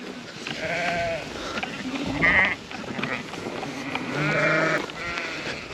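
Sheep bleating on a farm during an attempt to catch a ewe with a bucket stuck on her, several drawn-out bleats in succession, moderately close, with brief outdoor background noise between calls.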